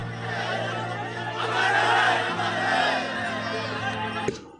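A dense crowd gathers as the body of martyred soldier Deepak Bhardwaj arrives in Chhattisgarh. A steady murmur of many voices swells and ebbs, with raised calls rising out of the babble, followed by a sharp knock near the end.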